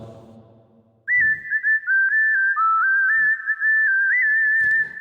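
A bright, sustained whistle-like keyboard tone plays the slow melody of a Telugu song, gliding between held notes, loud and clear after a short murmur of voice.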